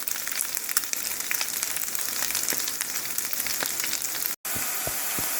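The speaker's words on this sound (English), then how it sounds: "I'm going to put in my chopped onion in here and cook for about a minute. And hear that sizzle." Ground beef and chopped onion sizzle and crackle steadily in a hot pan, with sharp pops scattered throughout and a brief silent break near the end.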